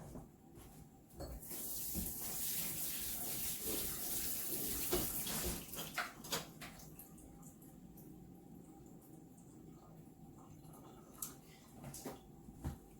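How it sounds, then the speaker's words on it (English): Tap water runs steadily into a kitchen sink as vegetables are rinsed, a continuous splashing rush with occasional knocks and clatters of handling, strongest early and then easing to a quieter trickle. "I'm going to give the veggies just a quick rinse."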